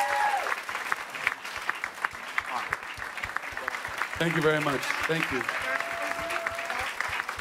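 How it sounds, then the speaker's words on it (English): Audience applause at a Nerd HQ 2016 fan panel, steady crowd clapping throughout with someone speaking over it and a brief burst of louder cheering partway through. "Let's give her another round of applause."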